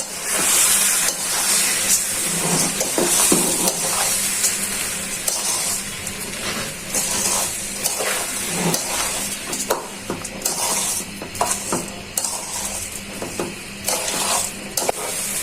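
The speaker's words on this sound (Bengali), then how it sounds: "এখন ভালো করে চাউলটা ভেজে নিই" Rice frying in a pan with garlic paste for white pulao, a close, continuous hissing sizzle broken by repeated scraping and stirring clatters.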